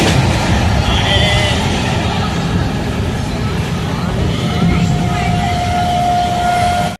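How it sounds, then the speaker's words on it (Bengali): A passenger train runs along beside Chilika Lake, a steady loud rumble of wheels and carriage noise filling the whole stretch without letup, heard from inside the coach. "এখন আমাদের ট্রেন ছুটে চলেছে আমাদের সবার পরিচিত সেই চিল্কা হ্রদের পাশ দিয়ে"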